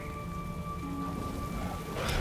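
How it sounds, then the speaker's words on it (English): Steady, dense rain pours down on a dreary day in the video game Diablo Immortal, a continuous close hiss with a faint tonal hum beneath it and no voices. "Rain came out of nowhere."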